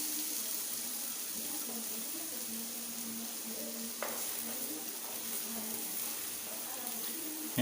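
Raisins fry in hot oil in a pan for Kabuli pulao, giving a steady, close, moderate sizzle with occasional small crackles and stirring sounds, and no talking.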